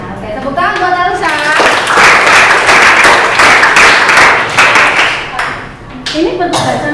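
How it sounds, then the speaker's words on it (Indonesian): Students in a classroom clapping for a classmate, a burst of close, sharp handclaps that swells for a few seconds and then tapers, with children's voices chattering before and after. "tepuk tangan buat Elsa"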